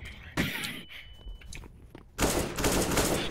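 Rapid bursts of gunfire from Counter-Strike: Global Offensive, a short crack early on and then a loud, sustained volley in the last second, with quieter game noise between.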